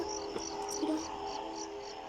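Steady, pulsing cricket chirps from the video game Five Nights at Freddy's 4 sound continuously against a quiet ambient background, with a soft low hum beneath. No one speaks.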